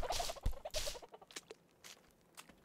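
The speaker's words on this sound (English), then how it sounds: "Go away, chicken." A chicken in the video game Minetest clucks in a few loud bursts over the first second, followed by softer pecking and patter sounds fading into quiet.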